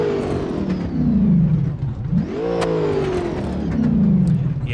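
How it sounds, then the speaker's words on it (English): A loud car engine in BeamNG.Drive revs up and down repeatedly, pitch rising and falling close by, with no talking. "Yeah, it's a loud car."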